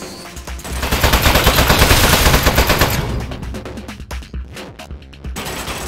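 Rapid turret gunfire in the video game Aperture Desk Job, a loud sustained burst of automatic shots that fades into scattered, sparser bangs over the last few seconds.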